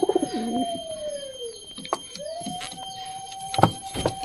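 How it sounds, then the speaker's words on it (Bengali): Pigeons in a loft with chicks give close, clear cooing calls, a long gliding coo followed by another after a short pause, with faint rustling and wing or foot clatter around them. "এটা ডাকাডাকি করতেছে ভিতরে"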